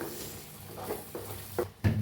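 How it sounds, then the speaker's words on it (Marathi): A spatula scrapes and stirs masala in oil in a pan with soft, uneven scraping, ending in a louder clatter. "आता ह्याला हलवून घेऊया."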